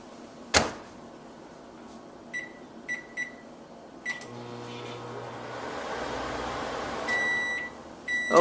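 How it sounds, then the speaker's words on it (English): A microwave oven melting peanut butter and candy, with sharp door clunks, several short beeps and a low running hum building in the middle before a final series of beeps. "Let's put it in the microwave for 1 minute so it's nice and melted."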